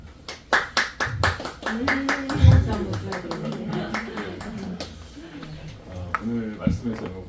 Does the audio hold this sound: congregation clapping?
yes